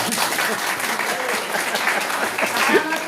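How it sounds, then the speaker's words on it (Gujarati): Loud sustained clapping comes from an audience at a Bhagavat religious discourse, a thick wash of many hands with some crowd voices mixed in, continuous and close. "જોરદાર તાળી આપો."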